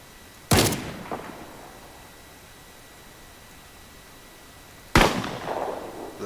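Two distant gunshots from an Insurgency sound used in a Fallout New Vegas weapon mod, each a sharp crack with a rolling echo tail, spaced about four seconds apart over faint background hiss.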